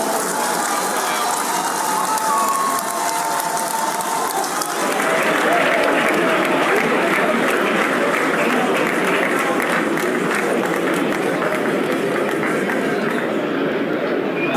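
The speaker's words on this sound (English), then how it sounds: "continue to clap" A crowd at a formal event keeps clapping to welcome Chief Olusegun Obasanjo, sustained dense applause that swells louder partway through and holds strong without letting up.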